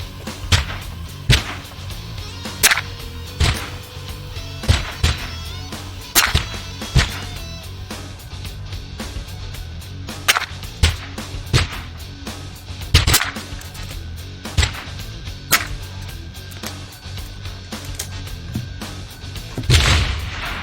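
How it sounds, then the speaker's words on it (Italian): Ruger Precision Rimfire .22LR rifle firing Federal ammunition at an outdoor range: a series of sharp, loud cracks spaced a few seconds apart, with no talking. "Questi sono i 5 colpi sparati con le Federal."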